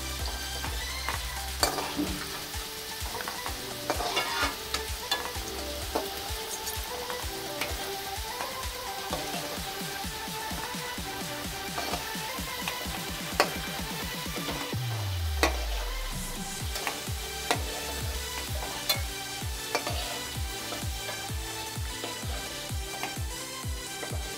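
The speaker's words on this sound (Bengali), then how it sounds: "আলুটা একটু ভেজে নিই লাল লাল করে" Oil sizzles steadily in a pan as potatoes fry until reddish-brown, with frequent clinks and scrapes of stirring throughout.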